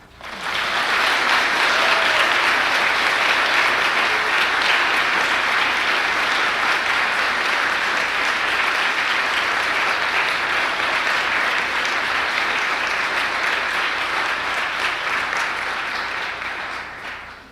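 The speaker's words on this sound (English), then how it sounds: "And now we congratulate them and clap." A congregation at a Flower Communion service claps in sustained applause for about seventeen seconds, a full, even roar of many hands that stays steady before tapering off at the end, with no talking over it.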